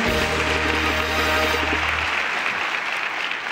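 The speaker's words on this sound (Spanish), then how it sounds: "Un aplauso para él." Studio audience applause on The Suso's Show, a Telemedellín talk show, as a steady dense wash of clapping that fills the whole stretch, with a sustained musical tone beneath it for the first two seconds.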